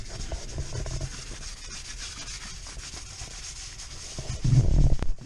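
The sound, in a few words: scrubbing dirt and grime off a BMW M2 muffler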